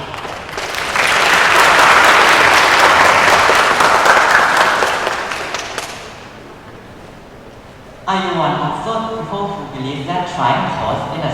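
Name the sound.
round of applause for team Luga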